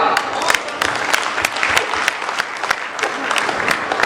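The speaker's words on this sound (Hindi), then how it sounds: "तो इसलिए आप तालियां बजा देना।" An audience applauds a poet at a Hindi poetry recital: a steady stretch of group clapping, with several sharp, louder individual claps standing out above the crowd.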